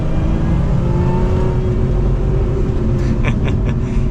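A 2024 Lotus Emira sports car accelerates while driving, its engine note rising as a loud, continuous drone under road rumble, with no talking.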